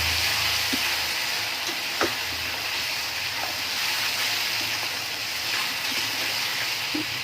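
Ginger-garlic paste fries in a pan for a potato dum curry, giving a steady close sizzle with occasional light clicks and taps from stirring throughout.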